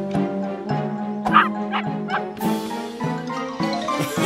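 Cartoon dogs in a children's animated dinosaur adventure bark and yip repeatedly, several sharp high voiced barks in quick succession over background music, fairly close and loud.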